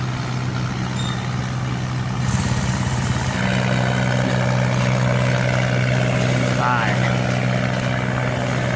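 An engine on a coastal fishing boat drones low and steady, with a tonal hum that shifts partway through and a brief higher whine near the end, set against constant outdoor noise.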